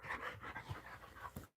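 A dog pants steadily in quick, close breaths, with a faint whimpering whine mixed in, and no talk over it.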